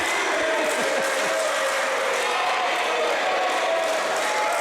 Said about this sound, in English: This crowd is going absolutely nuts.